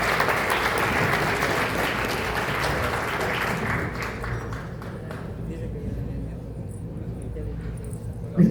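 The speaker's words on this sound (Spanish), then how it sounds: "Un fuerte aplauso para Virginia, por favor." Audience applause at a regulatory conference in Peru: dense, sustained clapping fills the room for about four seconds, then thins and fades to scattered claps over a low murmur.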